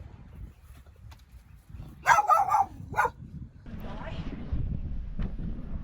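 A dog outdoors on the stormy Connemara coast gives a quick burst of three or four sharp barks near the microphone, then falls quiet as gusty wind rumbles across the mic. People talk nearby.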